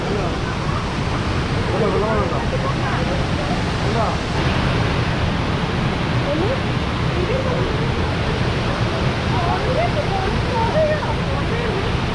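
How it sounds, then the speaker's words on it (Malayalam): Water gushes through the open shutters of Peechi Dam in a dense, constant roar. Voices are faintly audible beneath the rushing flow. "ഇതാണ് ഡാമിൻ്റെ ഷട്ടർ കേട്ടോ. ഇപ്പോൾ ഡാം തുറന്നിരിക്കുകയാണ്. നല്ല രസമാണ്, വെള്ളം ചാടുന്നതാണ്."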